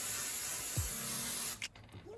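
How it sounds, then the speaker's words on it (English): Cooking spray is sprayed into a loaf pan while banana bread is being made in a home kitchen: a steady, close hiss runs for about a second and a half, then cuts off with a few small clicks and clatters. "Just give it a little spray."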